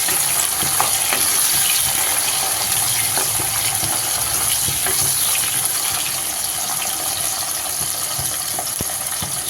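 Garlic and small shallots sautéing in a pan for a drumstick prawn kulambu, a steady broadband sizzle running throughout with a few soft stirring scrapes and clinks, close and fairly loud with no talk.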